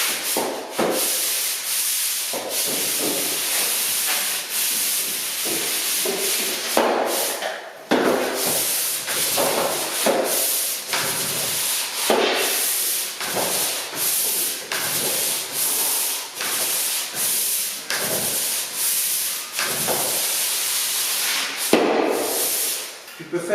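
A sanding block is rubbed by hand across a wall, giving steady scraping strokes with brief pauses between them, loud and close.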